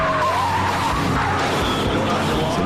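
A fleeing car corners fast, its tires squealing and skidding loudly over engine roar, with a voice talking over it.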